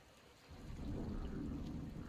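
Rain falls outdoors, building in after a brief quiet moment into a steady, fairly faint wash of drops with a low rumble like distant thunder, no speech.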